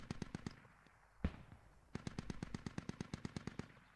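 A scoped RPK machine gun fires in a video game: a short rapid burst, a single sharp shot, a pause, then a long sustained burst of evenly spaced rounds, crisp and fairly close.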